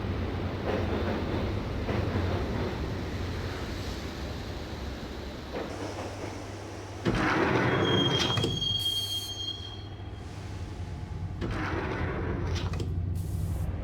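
A train rides the rails in the Max Payne video game, a steady close rumble of wheels with brief metallic squeals and a louder surge of rolling noise partway through.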